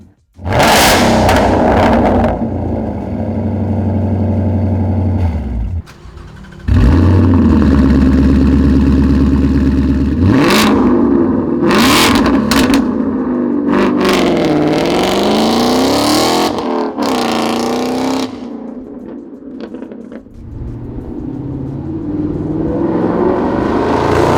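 A 2018-2023 Mustang GT V8 with an MBRP Race cat-back exhaust rumbles on the road, then accelerates with loud, rising exhaust roars, shifting and pulling away before the engine noise drops off and returns.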